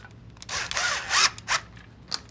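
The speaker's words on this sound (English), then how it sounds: "I'm just going to take a clip, put a screw in it" Power drill driving a screw into a plastic clip, short bursts of whirring motor with brief pauses, close and fairly loud, ending in a small final blip, with no talk.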